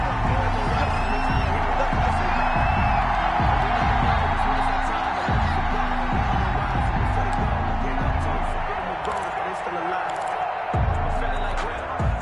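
A stadium crowd at an NFL game between the Buffalo Bills and Arizona Cardinals gives a continuous roar with scattered whoops and thumps, running under a commentator's steady talk.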